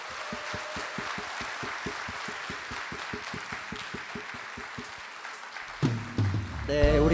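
A church congregation applauds a university a cappella group after their performance with a rhythmic, evenly spaced clapping that fades out after about five seconds, followed by a speaking voice and a rising tone.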